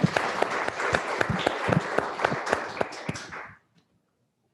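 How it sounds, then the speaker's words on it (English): Audience applause at a library meeting, steady clapping of a small crowd with a few sharp claps standing out, fading out to silence near the end. "let's give them all another round of applause."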